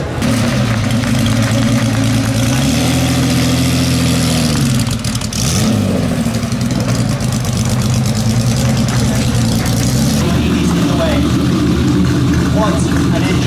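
A Ferrari 250 short wheelbase at the 2017 Concorso Villa d'Este runs loud and close, its engine idling and then revving up and falling back, with a commentator talking over the throaty drone.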